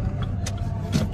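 A car approaches along a road beside Dal Lake in Srinagar, Kashmir; a low engine rumble runs underneath, with brief hissing swells of passing noise and a faint mechanical whine.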